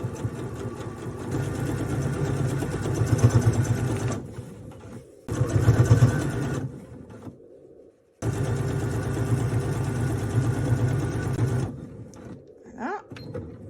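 A domestic sewing machine stitches fabric in fast rattling bursts as the cloth is guided along the presser foot, with a short back-and-forth stitch. The runs are separated by brief silences and end in lighter handling noise.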